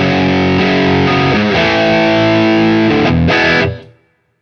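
Heavily distorted electric guitar chords through a Celestion Creamback 4x12 cabinet impulse response ring out loud and thick, changing a few times before the final chord is choked off into silence.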